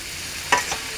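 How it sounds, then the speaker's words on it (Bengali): Cucumber pieces stir-fried in a pan with oil, onion, garlic, cumin, turmeric and salt: a low steady sizzle with one short scrape of stirring about halfway through and a fainter one just after. "শসা দিয়ে ভালো করে নেড়ে চেড়ে একটু ভাজা ভাজা করে নেব"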